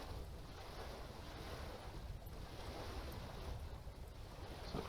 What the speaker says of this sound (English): it's getting windy in this area